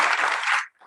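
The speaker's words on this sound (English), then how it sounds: "Yes, please, an applause." Audience applause at a design panel conference, a short burst of clapping that fades out quickly, fairly close.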